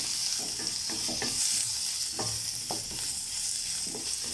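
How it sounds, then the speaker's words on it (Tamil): Sliced onion sizzles in a little hot oil in a kadai while a spoon stirs it, giving a continuous bright hiss punctuated by irregular scraping strokes, close and steady, with no voices. "வெங்காயம் சேர்த்து நல்லா வதக்கிக்கோங்க"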